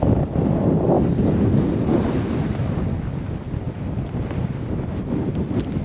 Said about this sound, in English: It is seriously windy